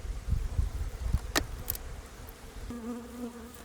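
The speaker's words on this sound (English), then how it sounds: "And these bees, I have noticed, are fairly gentle too." Honey bees buzz around an open hive during a frame inspection, a soft, steady drone near the microphone with a few brief louder passes of individual bees.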